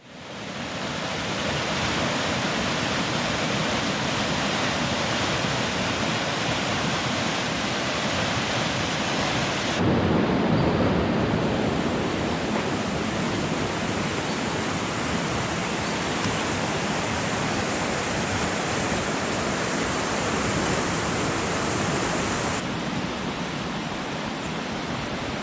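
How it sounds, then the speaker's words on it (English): A creek swollen after heavy overnight rain rushes in a broad, continuous roar, loud and steady throughout with one slight shift in tone partway through, and no voices. "I can hear the creek running"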